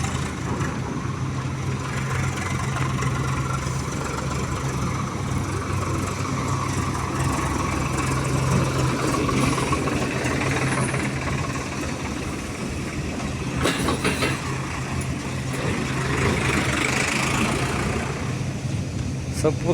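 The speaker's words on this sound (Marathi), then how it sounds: "काटा गेटवर ट्रॅक्टर भरून आलेला आहे, आता काटा करण्यासाठी आलेलं आहे।" A sugarcane-loaded tractor idles at a sugar factory weighbridge gate on a cold night, its engine a steady low drone that runs throughout at moderate distance, with other machinery in the background and people talking.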